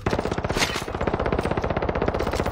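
Sustained automatic gunfire from the video game Warzone, a dense, rapid, loud stream of shots that continues without pause and has no talking over it.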